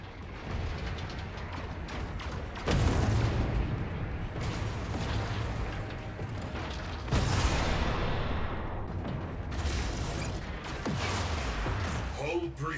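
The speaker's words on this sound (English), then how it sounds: "Torpedoes locked. Target in range." Spaceship torpedoes firing in the Warframe game: loud, dense booming blasts and rumbling impacts with sharp onsets near 2.7, 7 and 10 seconds over continuous mechanical clatter and score, no talk.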